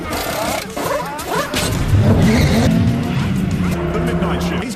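Race car in F1 2025 skidding through a corner with squealing tyres and roaring engine, loud and continuous over dense overlapping game sound, rising in intensity midway and holding steady to the end.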